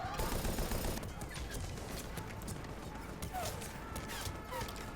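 Sustained automatic gunfire from combat against enemies in Mass Effect Legendary Edition DLC gameplay, a steady rattle of shots continuing throughout under intermittent background talk.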